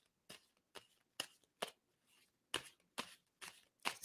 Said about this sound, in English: I'm going to stop shuffling